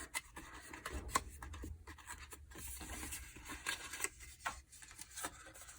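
Die-cut paper gingerbread house pieces being folded by hand, with soft rubbing, scraping and crinkling paper sounds close up, irregular and quiet over faint background noise.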